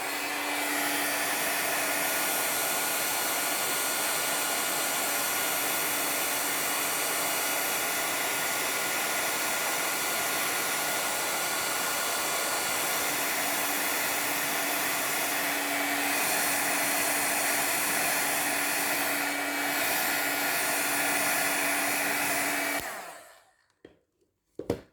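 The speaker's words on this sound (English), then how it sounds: "so I'm going to heat emboss this part" Handheld heat tool melting gold embossing powder for heat embossing on a Stampin' Up! craft project: a steady, close blower roar with a faint constant whine, running unbroken for over twenty seconds before switching off.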